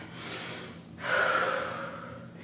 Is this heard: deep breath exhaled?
yes